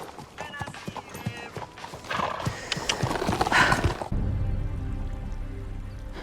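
A horse's hooves clip-clop in a quick, uneven patter that is close and fairly loud, then give way to a steadier, heavier rumble.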